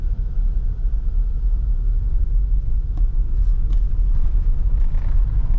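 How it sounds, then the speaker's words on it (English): A car rolls down a dirt road in St. Croix State Park, Minnesota, its low rumbling engine and tire noise steady and close, with a few faint clicks and rattles. "Okay, now we're gonna drive down a dirt road."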